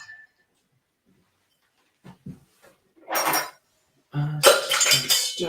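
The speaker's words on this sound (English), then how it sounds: "I have to stir it." A spoon stirring a drink with ice: a few faint clinks, then bursts of rattling, clattering ice knocking against the glass, growing louder near the end.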